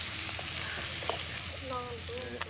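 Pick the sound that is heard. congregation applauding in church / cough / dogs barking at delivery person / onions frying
onions frying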